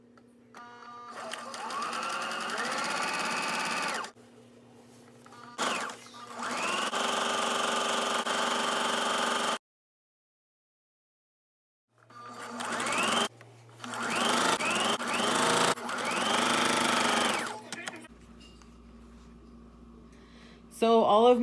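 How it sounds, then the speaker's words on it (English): A sewing machine runs straight stitches along ribbon being sewn onto a skirt, in several whirring bursts broken by short pauses and one longer silence, with a voice heard at times. "I sew ribbon on and I use a straight stitch"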